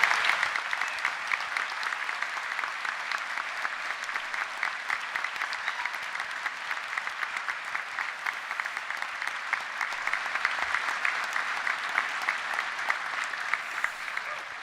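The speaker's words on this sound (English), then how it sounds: "please could I ask everyone to join me in a round of applause" A graduation ceremony audience for the School of Science, Engineering and Environment gives a long, even round of applause, a sustained crackle of many hands clapping at moderate distance for nearly fifteen seconds.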